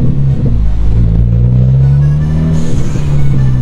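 Car with a newly fitted downpipe exhaust accelerating on a highway, a loud, deep engine drone rising in pitch as it pulls, heard from inside the cabin with no talking.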